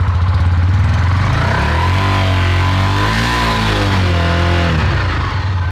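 A motorcycle engine running loud and close, holding a steady idle with one rev that rises and falls midway.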